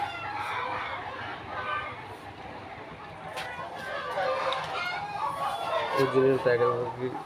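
Tiger breed chickens cluck and a rooster crows in a farmyard, the bird calls rising and falling around someone talking nearby.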